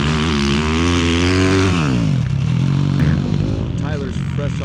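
A 450 RX dirt bike races on a motocross course at a Mesquite MX team event, its engine revving loudly and shifting pitch as it pulls away, with a commentator talking over it throughout.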